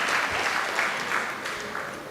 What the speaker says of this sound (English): Let's clap for Hamisi High School again.